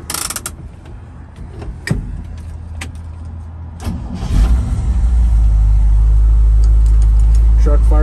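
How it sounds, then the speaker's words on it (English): A 1971 Chevrolet C10 custom 4x4 truck cranks and fires up, a few clicks and clunks before the engine catches and settles into a loud, steady low idle close by. "Truck fires right up."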